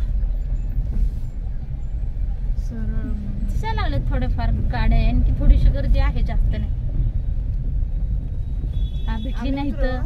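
Road traffic of cars and buses, with a hiss like an air brake, rumbles steadily near a crowd at the Bibi Ka Maqbara historical site, with people talking over it throughout.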